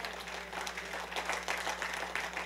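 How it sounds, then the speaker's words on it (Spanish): A church congregation claps during a Sunday morning Spanish-language service, a soft, diffuse wash of applause heard from a distance over a steady low electrical hum. "Den un aplauso al Señor esta mañana."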